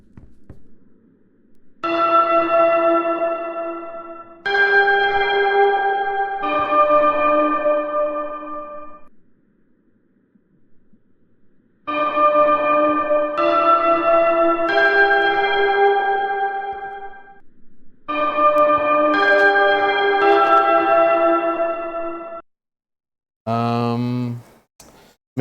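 Bells rung by the player in the video game Ether One, a tune of clear ringing struck tones in several phrases with gaps between them and a short final flourish, close and resonant with no speech.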